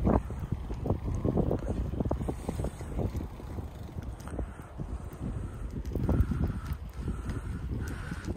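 Gusty outdoor wind buffets the microphone in a steady low roar that swells and eases over several seconds, dense and close with no voices.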